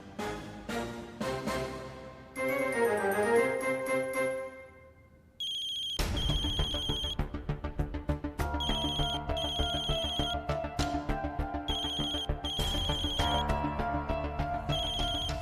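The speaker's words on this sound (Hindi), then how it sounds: "मल्हार का फोन।" A phone ringtone plays a repeating electronic melody, loud and alone, pausing briefly before a brighter ringing pattern continues steadily.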